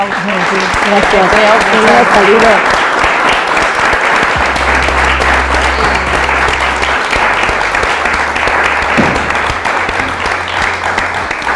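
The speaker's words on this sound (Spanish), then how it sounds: "yo os pido un fortísimo aplauso" Loud, sustained audience applause at a telecommunications engineering talk on entrepreneurship, dense clapping filling the room for the full length, with a voice speaking briefly over it near the start.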